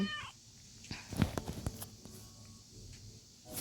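Soft video game cat meows sound over a quiet, steady background with a few light taps and clicks.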